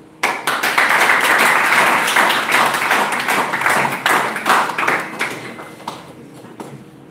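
An audience claps steadily after a Law Day debate between student teams, a dense round of applause that swells quickly, holds for several seconds and then thins out toward the end.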